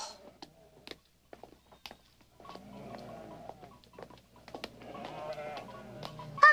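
A herd of goats bleating in a mountain pasture scene, several short, wavering calls scattered among light pattering and rustling, fairly close but soft.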